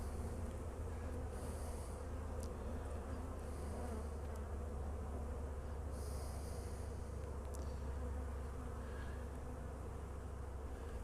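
Honeybees swarm around an open hive box holding brood and honey frames, producing a dense, steady buzzing drone close by, with occasional louder passes of individual bees.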